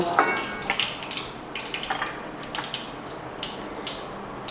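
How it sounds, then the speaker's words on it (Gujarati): Mustard seeds crackle and spit in hot oil for tempering Gujarati dal, giving sharp, irregular pops and sizzles scattered over a faint steady hiss. "તેલ ગરમ થઈ ગયું છે તો આપણે અડધી ચમચી રાઈનો ઉપયોગ કરશું"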